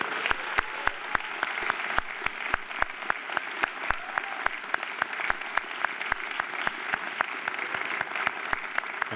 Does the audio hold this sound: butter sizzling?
no